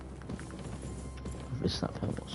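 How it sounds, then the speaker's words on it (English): Soft hoof clops from a horse in the video game Kingdom Come: Deliverance II, faint and somewhat distant beneath a low background hum. "Heard a horse."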